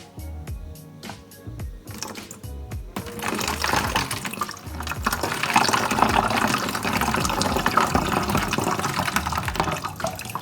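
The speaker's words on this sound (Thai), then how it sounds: "ถ้า เราเทน้ำลงไปในกดนะครับผม" Water poured into acid in a container, a steady splashing liquid pour that grows fuller and louder after a few faint drips at the start.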